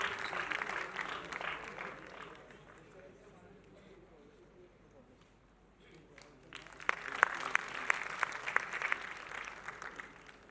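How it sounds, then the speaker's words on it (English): Audience applause in a college auditorium during the Umang festival, clapping that fades out under a brief stretch of quieter sound, then swells again with sharp claps near the end while a voice talks over it. "A huge round of applause once again for the Rustomjee Group."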